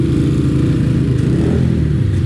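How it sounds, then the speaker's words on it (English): A Honda CRF 450R dirt bike on skinny tires holds a loud, close, continuous engine roar with a rough, throbbing idle-to-rev tone throughout. "So now I'm using my buddy Noah's bike. This is an R, right? Fucking 450R"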